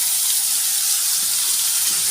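Spice paste sizzles and fries steadily in a hot pan, a continuous close hiss with no talking.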